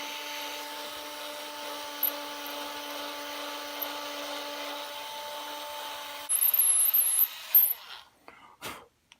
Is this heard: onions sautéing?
no